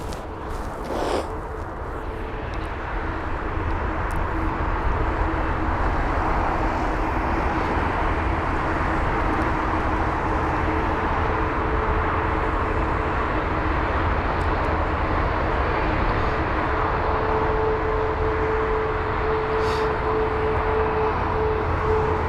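A 22-year-old Airbus A319 airliner at London Heathrow produces a steady, moderately loud engine roar with a faint whine, continuing unbroken with no talk.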